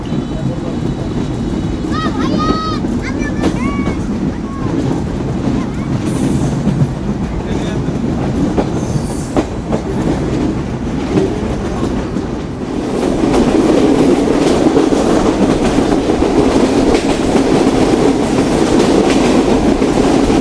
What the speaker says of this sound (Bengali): সেই মোতাবেক আমরা ছুটছি বাংলাদেশের প্রথম railway junction Poradaha junction railway স্টেশনের উদ্দেশ্যে